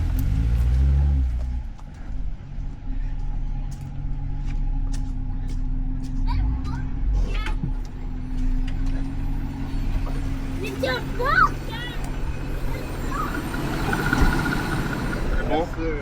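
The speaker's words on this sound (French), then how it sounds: "Donne du gaz." A Jeep TJ engine revs steadily for a sustained stretch, a deep, continuous drone that swells at times, with people talking in the background.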